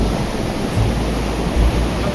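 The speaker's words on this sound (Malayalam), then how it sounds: "തിരമാലകളിങ്ങനെ ഒന്നിനു പുറകെ ഒന്നായി വീശി അടിച്ചുകൊണ്ടിരിക്കുന്നു." Calm ocean waves wash onto Vettukad Beach in Trivandrum on a sunny day, a steady, close surf roar with light wind buffeting and no speech.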